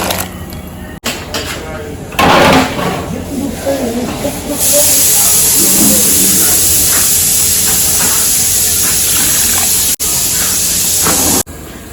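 Tapioca goes into a pot of boiling water. After a few clattering handling sounds, a loud, steady hiss of bubbling and steam builds up and holds for several seconds.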